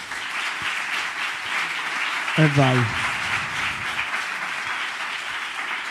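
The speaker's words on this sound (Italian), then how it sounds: "Applauso." Studio audience applause fills the room at the opening of an Italian comedy talk show, a steady crowded wash of clapping held throughout, with a man's brief remark cutting in midway.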